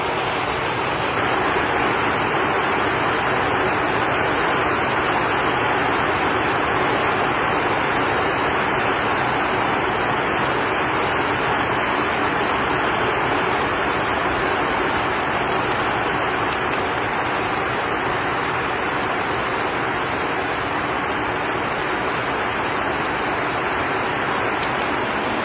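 Steady rain falls on a rural village morning, a continuous broad wash of noise at an even level for the whole stretch, with no talking over it.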